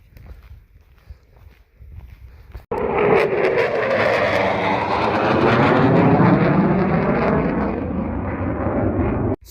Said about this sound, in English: right before that last jet went by